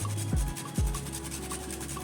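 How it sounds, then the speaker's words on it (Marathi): Whole nutmeg scraped over a small grater for mung dal halwa, giving a few close, dry rasping strokes in a steady back-and-forth rhythm, alone and fairly quiet. "यात आपण हे घेतलेलं जायफळ किसून घेऊया"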